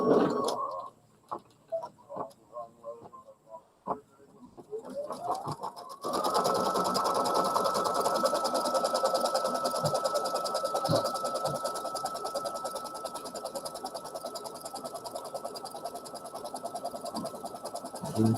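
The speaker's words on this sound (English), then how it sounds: "Let's stitch out our first placement stitch." Sewing machine stitching an embroidery placement stitch for a snow-themed design: a few light taps and clicks, then a steady, loud motor whir with rapid needle ticking that runs unbroken for over ten seconds, no talk.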